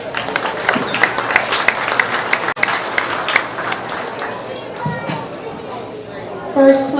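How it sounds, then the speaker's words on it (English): Loud, sustained applause from an audience at a small animal show, a dense wash of clapping that continues through the whole stretch with a brief dip partway and crowd murmur beneath. "Let's give all those individuals a round of applause."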